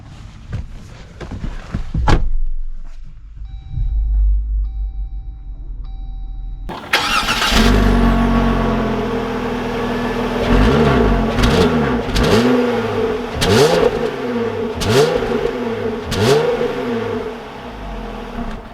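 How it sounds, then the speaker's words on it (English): A 2021 Jeep Wrangler Willys cranks and starts with a loud burst, settles into an idle, then pulls away, its engine rising and falling through repeated revs as it drives off, with a few clicks at the start. "let's take this Willys Wheeler out and see how it drives"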